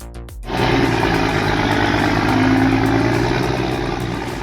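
A John Deere 903K forestry machine's engine runs at a steady, loud mid-pitched roar after a short quieter start, with a faint whine rising briefly in the middle.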